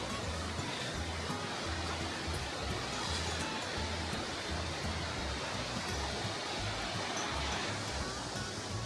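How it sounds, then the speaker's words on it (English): Hickory Nut Falls waterfall heard as a steady, faint broadband rush of falling water, constant and unbroken throughout. "we finally are near the waterfall"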